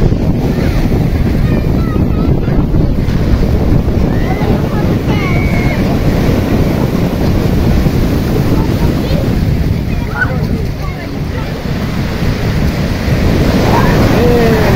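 Surf at Nazaré beach in Portugal breaks and washes steadily throughout, loud and close with heavy wind buffeting the microphone; people speak now and then over the water.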